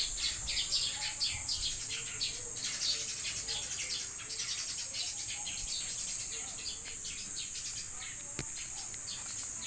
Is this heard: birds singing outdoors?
yes